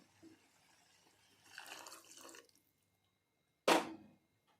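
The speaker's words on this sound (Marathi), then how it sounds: "आता हिच्यामध्ये आपल्याला पाणी टाकून घ्यायचं आहे" Water poured into a pressure cooker pot for sambar, a short sloshing pour near the middle followed by a brief loud splash toward the end, with quiet gaps between.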